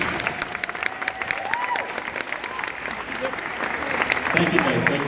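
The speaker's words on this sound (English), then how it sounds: "Let's give them a round of applause" An audience at a middle school band concert applauds steadily for the soloists, the clapping swelling toward the end, while voices and a bit of cheering are heard over it.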